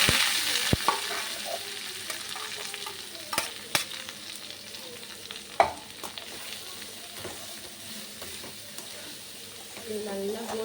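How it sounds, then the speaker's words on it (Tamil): Onion sautéed with mustard seeds in a hot pan for egg bhurji, a steady close sizzle and fry with scraping stirs and occasional sharp clinks of a spoon against the pan. "இது நல்லா கோல்டன் ப்ரௌன் கலரில் வர வரைக்கும் இதை நான் நல்லா வதக்கிக்கிறேன்."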